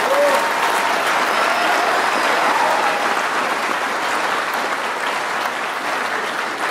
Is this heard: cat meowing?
no